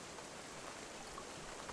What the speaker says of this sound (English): I'll come up here and even just drink the rain